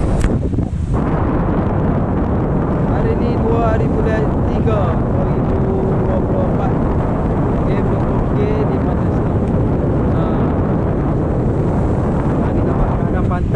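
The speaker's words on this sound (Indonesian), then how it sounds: "hari ni ombak angin kuat, ombak gulung-gulung" Strong wind with rolling waves at Pantai Senok beach in Bachok during a fishing competition, a loud continuous roar of gusts buffeting the microphone, with someone speaking over it.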